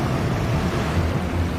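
Lake water churns and surges violently in a steady, dense low roar of turbulent sloshing and rushing, continuous and fairly close throughout the brief stretch.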